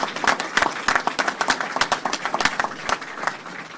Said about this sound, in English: Let's give Aliyah a round of applause.